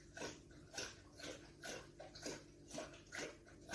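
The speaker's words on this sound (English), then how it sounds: "you can hear my dog in the background" A dog whimpering in soft, repeated high whines, fairly faint and somewhat distant, with several pulses spread evenly across a few seconds.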